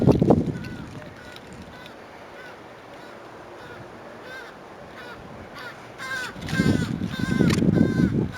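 A crow cawing loudly and repeatedly while chasing a person through a cemetery, close-up harsh calls in bursts, strongest near the end, with a voice briefly at the start.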